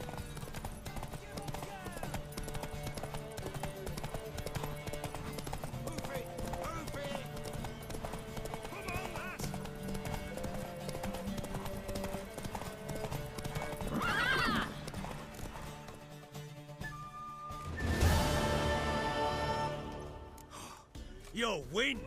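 Steady clip-clop of galloping hooves in The Witcher 3: Wild Hunt, with a horse whinnying and snorting, under music and voices speaking.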